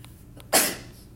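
A single sharp sneeze bursts out abruptly in a quiet classroom, loud and close, then trails off quickly after a brief inhale.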